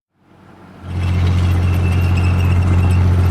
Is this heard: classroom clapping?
no